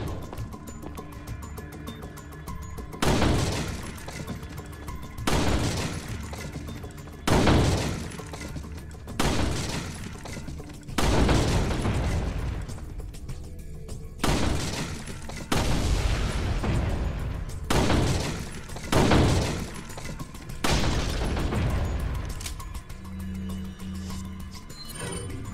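Gunshots at the shooting range in Resident Evil 4, a series of loud sharp blasts spaced a few seconds apart, each with a booming tail and occasional shattering of targets, no talking.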